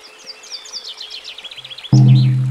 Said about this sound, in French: J'écoute le chant des oiseaux.